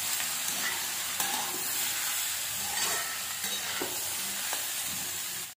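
Soaked chana dal and nenuva (gilki) vegetables sizzle steadily in a pan, with repeated soft scraping stirs breaking through the continuous hiss, no talking.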